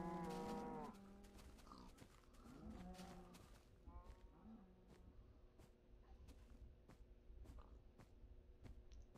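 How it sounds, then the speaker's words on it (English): Cows mooing in the video game Minecraft, with several drawn-out moos near the start followed by fainter, scattered lowing and clicks, and no talking. "not having to listen to all these cows"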